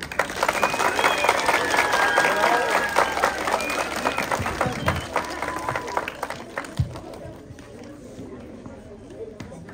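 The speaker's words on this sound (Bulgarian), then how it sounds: "Отново аплодисменти за класните!" Applause at a Bulgarian high school graduation send-off for the class of 2024, a crowd clapping loudly and steadily before thinning out toward the end, with faint voices and a few brief whistling tones mixed in.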